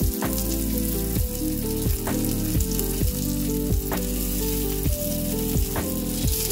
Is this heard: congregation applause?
no